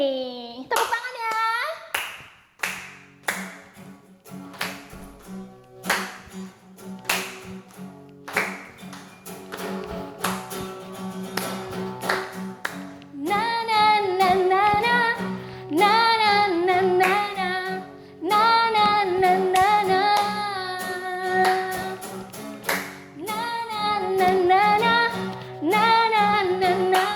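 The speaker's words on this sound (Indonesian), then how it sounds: "Tepuk tangan ya." Children in an online church worship service clap their hands in rhythm along with a praise song, steady taps under music and singing that grows fuller partway through.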